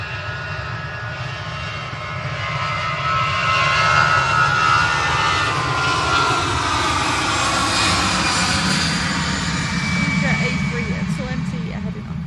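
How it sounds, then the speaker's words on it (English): Airbus A380 jet airliner departing Manchester Airport, a deep rumbling roar of jet engines that swells and holds steadily before slowly fading, heard from a distance in the open. "A380 heading off to Hamburg."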